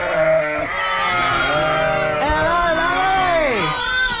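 Ewes and lambs bleating on a farm during lambing season, several overlapping calls close by with rising and falling tones, carrying on continuously.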